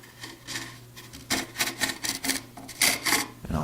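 A chisel held almost flat pares thin shavings off a wooden surface, producing a quick series of close, scraping rasps in short repeated strokes.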